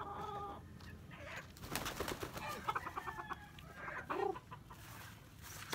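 Young stags clucking softly while feeding, scattered low clucks and pecking noises close by amid faint outdoor background hiss.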